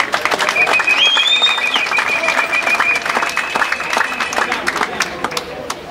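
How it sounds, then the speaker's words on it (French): Sustained ovation from party congress delegates gathered for Félix Tshisekedi's investiture, dense clapping and crowd noise filling the hall, with a whistle-like tone rising above the applause. "qu'ils acceptent mes félicitations et l'ovation des congressistes ici réunis"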